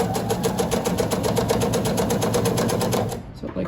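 Domestic sewing machine running continuously as it stitches binding onto a scrappy quilted placemat, a fast steady whir close by that cuts off near the end.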